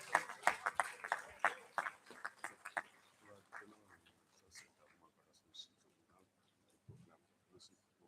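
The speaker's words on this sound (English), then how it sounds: "Let's give ourselves a round of applause" Participants in an academic staff workshop clap briefly, a faint scatter of sharp claps that thins out after a few seconds into near silence with a few stray sounds.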